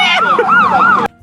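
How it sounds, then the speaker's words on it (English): A police siren wails in a steady rising and falling sweep, loud and close, then cuts off abruptly near the end. "I wish the cop sirens weren't going on because she's still screaming."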